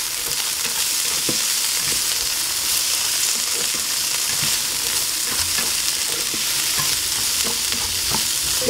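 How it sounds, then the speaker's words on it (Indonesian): Carrots and green beans stir-fried in a pan, a constant bright sizzle with repeated scraping taps of a spatula, close and with no talking. "kita masukkan wortel sama buncisnya ya. Kita oseng sebentar."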